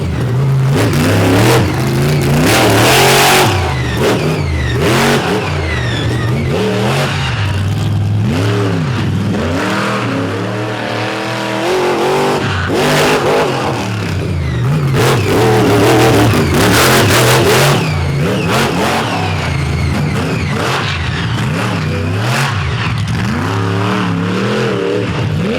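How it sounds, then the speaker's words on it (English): Chevrolet Silverado truck from the Buffalo, New York area, competing in a freestyle run at a truck event, its engine revving loudly and repeatedly in surging bursts, close and continuous over crowd noise. "the big Silverado out of the Buffalo, New York area laid down the opening freestyle"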